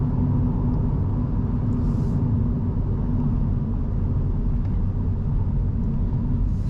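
A 2023 Mini Cooper SE electric car accelerating, heard as a steady, loud low road rumble and wind roar from inside the cabin, constant throughout with no voices.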